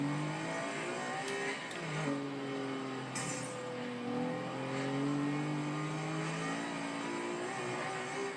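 A 2011 Lotus Evora S engine in the racing game Forza Horizon 2, revving up and down through gear changes with a rising and falling engine note, steady and fairly loud, with brief bursts of tire noise.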